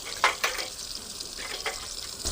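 Drumstick greens sauté in a pan with a soft, steady frying hiss and a few stirring scrapes, close and fairly quiet.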